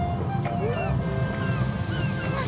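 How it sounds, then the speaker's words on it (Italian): Ocean waves wash against a beach in a cartoon scene, a steady close roar of surf with brief whooshing swells, heard alone without speech. "Questo è il rumore dell'oceano."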